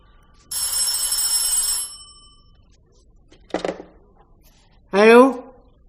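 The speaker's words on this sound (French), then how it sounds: "Allô? Qui? Mais non, il n'y a pas de terrain ici, c'est une erreur." An old telephone bell rings once in a steady electric burst, then after a pause a voice answers, with the ring clear and close in a quiet room.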